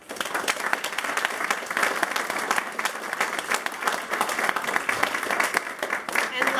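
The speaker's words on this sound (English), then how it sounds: "I'd also like to have a round of applause for the candidates" A crowd applauds the candidates at a school forum for River Valley Elementary Schools, with steady, dense clapping that fills the room throughout.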